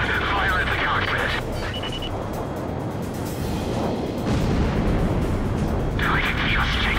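Continuous roaring jet engines and rapid fighter-jet gunfire in the Ace Combat Zero video game, dense and loud throughout, with bursts at the start and end.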